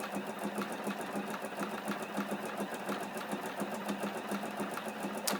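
A Juki NX7 sewing machine runs at top speed with the pedal fully down, a rapid, even mechanical chatter of needle strokes repeating steadily and close throughout with no pauses or voices.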